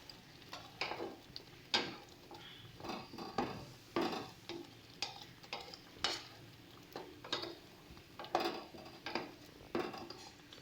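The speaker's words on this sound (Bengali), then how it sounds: "এবার সমস্ত মশলাগুলোকে ভালো করে ডাল আর কচুর ফুলের সাথে মিশিয়ে নেব" Lentils and taro flowers being mixed with spices in a pot, a spoon scraping and knocking in steady irregular strokes, close and fairly quiet with no talk.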